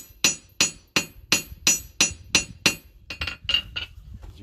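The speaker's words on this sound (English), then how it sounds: "I create a nice flat edge as I'm hammering down." A blacksmith's hammer rings on hot metal against the edge of an anvil while flattening the edge of a fire striker, a steady series of about eleven loud, bright metallic strikes that quicken and soften toward the end.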